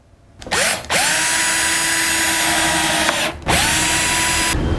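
A power drill drives screws into a wooden bee hive box, with two long, loud, close whines that wind up and hold steady. A brief pause and a mechanical click separate the two runs.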